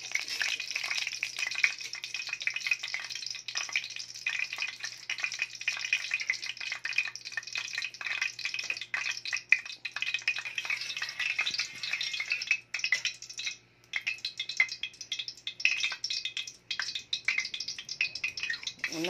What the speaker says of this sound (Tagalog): Medyo matalamsik yung mantika.